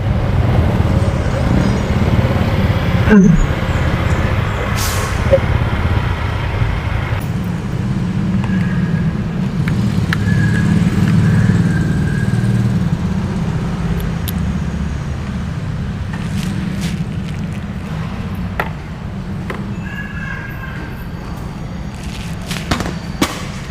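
Motorcycle ride through traffic while searching for parking, a steady engine and road rumble running throughout with passing vehicles, scattered sharp pops and clatter, and faint voices underneath.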